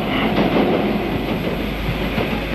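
A passenger train pulls into a station with a steady, loud rumble and faint clacking of wagons. The noise is continuous and there is no talk.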